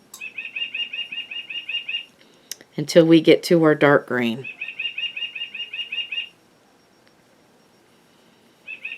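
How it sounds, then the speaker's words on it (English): A bird-song wall clock chiming with rapid repeated chirping trills, nearby and steady, pausing while someone talks briefly over a needlework tutorial, then resuming; a last short chirp at the end. "There goes my bird clock."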